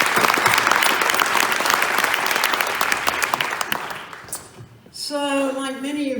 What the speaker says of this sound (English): how about a real big round of applause for Doug Tiemann?